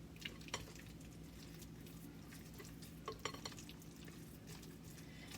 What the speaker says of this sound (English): I'm going to add 4 cups of creamy ricotta, and I'm going to start mixing that in